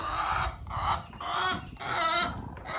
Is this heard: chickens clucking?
yes